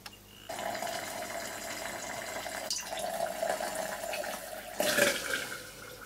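The lower sulfuric acid layer drains from a separatory funnel into a flask of wastewater, making a steady trickling, splashing pour that starts abruptly and holds constant. A brief louder gush comes near the end.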